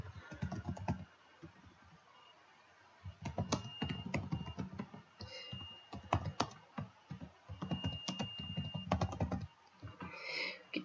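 Keystrokes on a computer keyboard as a name is typed, in quick irregular bursts of clicks with a pause near the start, close and moderately loud.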